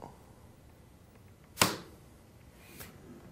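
A plastic hinge cover pops off a Dell Inspiron 1310 laptop as it is pried up, one sharp snap followed by a fainter second click a moment later, close and alone over quiet room tone.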